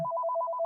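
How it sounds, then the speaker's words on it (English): A house phone rings with a short, warbling electronic trill that pulses rapidly and evenly, loud and close, with no other sound. "House phone, don't answer it."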